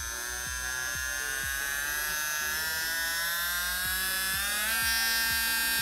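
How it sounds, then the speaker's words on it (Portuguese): A cheap micro rotary tool (micro retífica) runs at its maximum speed of about 18,000 RPM, giving a steady, close, high-pitched electric whine with a faint rhythmic ticking underneath. The pitch climbs slightly near the end. "E essa aqui é a rotação máxima dessa micro retífica."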